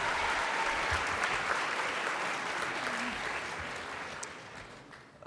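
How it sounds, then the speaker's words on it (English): A hall audience at the 2010 MATHCOUNTS National Competition applauds contestants, a full, steady burst of clapping that gradually fades toward the end. "Let's have a round of applause for them as they make their way to the contestant desk."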